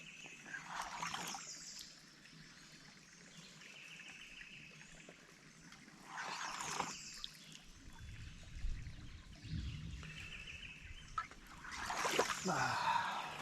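Stream water trickling and gurgling into a bottle being filled by hand, a soft, close, intermittent pouring with occasional louder splashy bursts.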